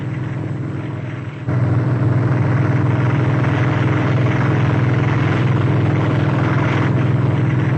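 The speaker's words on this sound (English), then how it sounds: "Sikorsky helicopters combining moderate airspeed with the ability to hover over a target area" A Sikorsky helicopter flies overhead, hovering in the area, with a loud, steady rotor and engine drone that gets louder after a brief dip and then holds evenly with no talking.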